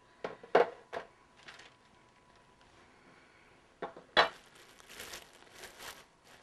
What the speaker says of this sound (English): I always line a pan with parchment paper